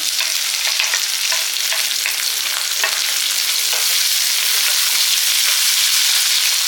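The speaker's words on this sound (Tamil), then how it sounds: "இப்போ சின்ன வெங்காயம் வந்து பொடி பொடியாக கட் பண்ணி வச்சுருக்கேன் அதில் போட்டுக்கிறேன்" Chopped shallots fry in a pan already holding green chillies and garlic for a tamarind chutney, giving a steady, close, continuous sizzle with faint stirring clicks throughout and no talking.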